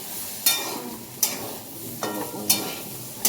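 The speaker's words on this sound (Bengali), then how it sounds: "তার থেকে ভালো এই আলু ফুলকপির তরকারি করছি" Potato and cauliflower curry stirred in a hot pan, a steady sizzle broken by five sharp scraping strokes of the spoon at regular intervals, close and clear.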